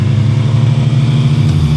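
A Triumph motorcycle revs hard during a wheelie, its loud, steady mid-range engine drone held close and continuous, with no voices.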